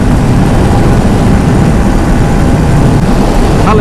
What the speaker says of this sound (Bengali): ফাঁকা রাস্তায় বাইক চালাতে ভালো লাগে